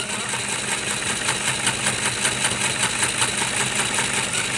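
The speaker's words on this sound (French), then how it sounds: "ma machine à coudre ne fait pas trop de bruit" A home sewing machine stitching a makeup-remover wipe, running steadily for several seconds with a dense mechanical whir and rapid needle ticking, close by and with no talk.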